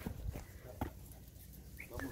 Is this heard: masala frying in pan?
no